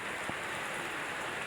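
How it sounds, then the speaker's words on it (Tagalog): Rain falls outdoors in a soft, steady hiss, fairly quiet and continuous, with no talking. "Tapos ngayon, babanat ng ulan."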